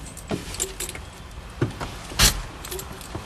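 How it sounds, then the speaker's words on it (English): A van key is pushed into the ignition with a bunch of keys jangling, giving a few short metallic clinks and rattles, the loudest near the end, close by inside the cab with no talking. "insert the key in the ignition and turn it to standby"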